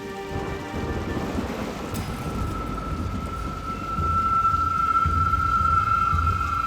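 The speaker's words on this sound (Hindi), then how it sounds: "सच्ची परेशान हो गई मैं बारिश से।" Steady heavy rain pours down with a dense hiss, growing louder toward the end, and a faint rumble underneath.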